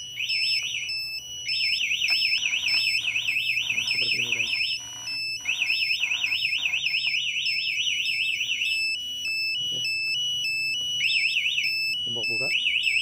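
A 2020 Yamaha MX King motorcycle's smart key alarm buzzer warbles in loud, rapid electronic bursts, stopping and restarting several times, with a few short low clicks in between.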